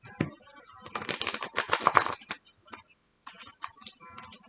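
A deck of cards shuffled close up, a quick ruffling burst of riffled cards, then a pause and a shorter second run of light flicking cards.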